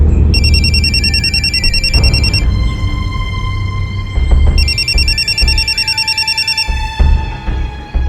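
A telephone rings loudly nearby in a home, two long bursts of rapid, jangling electronic trilling separated by a pause, over a busy indoor background.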